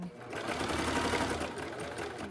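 Sewing machine running steadily in reverse stitch along the side of a pleated fabric face mask, a continuous close whirring hum with fast needle chatter and no pauses, no talking over it.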